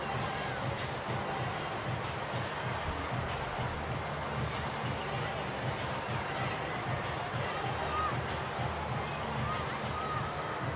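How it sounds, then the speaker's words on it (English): Stadium crowd of around eight or nine thousand at a para athletics championships in East London, a steady broad murmur and hum of many voices filling the space continuously, with no standout cheers. "Nice crowd again for a Monday morning in East London."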